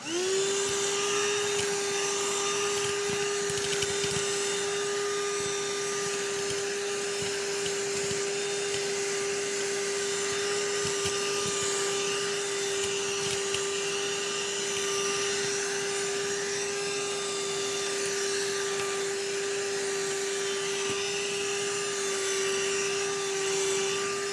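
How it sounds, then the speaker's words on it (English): A BLACK+DECKER beyond cordless dustbuster with crevice tool and extension vacuums Cheerios off a rug, a steady high motor whine with a strong constant tone, running continuously and close without pause. "let's use our crevice tool and extension to go ahead and vacuum them up"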